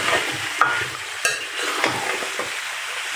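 Taro pieces fry in a spice paste in oil while being stirred, a loud close sizzle with a few scraping knocks of the spoon against the pan, with no one speaking.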